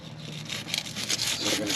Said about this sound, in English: A lot of these connections are really gross, so I'm going to try and scrub this